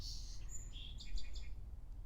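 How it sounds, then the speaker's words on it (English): Small birds chirp outdoors in brief, faint high tweets against a low background rumble. "you hear the birds in the background"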